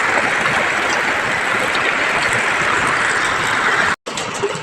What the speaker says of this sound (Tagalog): Sige kusog sa uwan diri guys eh.